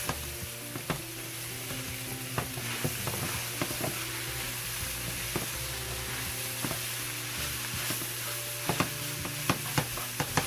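Meat sauce for baked ziti sizzles steadily in a hot pan as pasta sauce is stirred into the browned meat, with scraping stir strokes and clacks of the spoon against the pan throughout, close and continuous with no talking.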